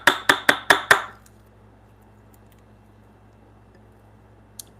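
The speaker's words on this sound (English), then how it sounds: "Now I'm going to chisel out this waist too" Five quick, sharp wooden knocks in a steady rhythm as a mallet drives a chisel, cutting out a bridle joint in wood, then near silence with one faint tap at the end.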